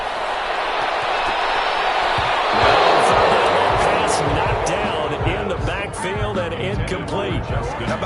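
Stadium crowd noise swelling into applause for the defense in an American football video game, a broad roar that peaks then settles under a play-by-play commentator's talk.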